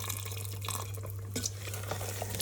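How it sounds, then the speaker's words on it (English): Hot water from a kettle poured into a cooking pot of chicken keema with peas and potato, a faint trickling and dripping splash over a steady low hum. "Going to add tiny bit hot water. This is kettle hot water."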